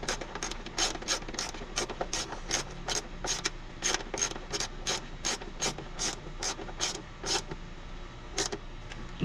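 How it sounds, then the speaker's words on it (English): Ratchet wrench tightening fender-area hardware on a manual Ford Mustang: a steady run of sharp, close mechanical clicks in quick regular strokes, with no talk. "So we'll go ahead and finish"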